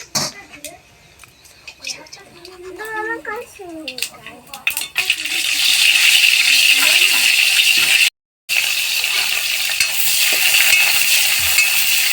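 Mustard seeds are tempered in hot oil for a fish curry with yam; a voice and kitchen sounds come first, then a loud, continuous close sizzle and crackle rises and fills the rest, briefly cut off once.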